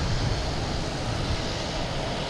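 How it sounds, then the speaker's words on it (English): A Boutique Air propeller plane starting its engines at Boston Logan Airport, heard as a steady, loud broadband roar with a heavy low rumble that holds constant throughout. "There's the racket we're hearing right here. Boutique Air just starting their engines up."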